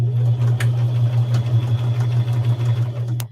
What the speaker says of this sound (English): So I'm going to remember to reverse stitch here.